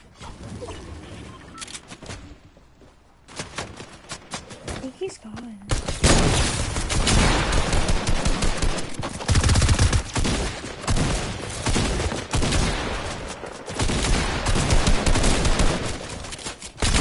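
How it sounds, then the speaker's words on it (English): Rapid bursts of video game gunfire crackle loudly and almost continuously, growing denser partway through, with a player's voice talking over the shooting. "there's someone shooting at us."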